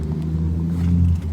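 A Mercedes-Benz C300 with a bad alternator and flat battery idles close by after finally starting, a loud, low steady rumble that swells slightly near the end.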